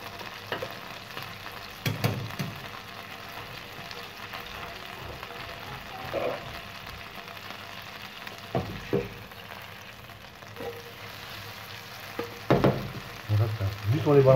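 Gnocchi sautéing in a pan with a butter and juice glaze, a soft steady sizzle with occasional stirring clatter and scrapes, close up and without talk.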